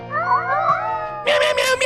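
Cat meowing in the horror warehouse game Order 13, a drawn-out tonal meow with rising and falling pitch, then a brighter, louder cry near the end, close and clear with no talk over it.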